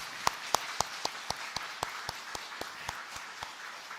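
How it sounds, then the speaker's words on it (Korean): A church congregation claps in a slow, sparse rhythm, about a dozen distinct claps spaced evenly apart in a quiet room, with soft background murmur and no clear speech. "하나님께 그리고 모든 성도님들께 감사와 영광의 박수 한번 올려드리겠습니다."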